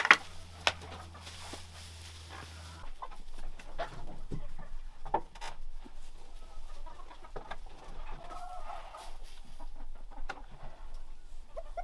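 Chickens kept at an off-grid cabin cluck softly and intermittently at close range, with scattered quiet scratches and movements amid a calm, low ambience.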